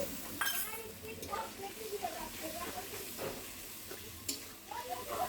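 Spice masala sizzles and hisses in a pan as it is stirred, with faint clinks of the spoon, while a person talks over the cooking.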